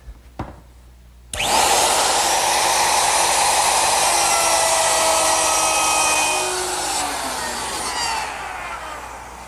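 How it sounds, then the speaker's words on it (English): A plunge router with a half-inch straight bit starts after a brief click, then roars steadily as it cuts a dado in wood for an armoire shelf, loud and close, before winding down near the end. "set up my plunge router with a 1/2-inch straight cutting bit"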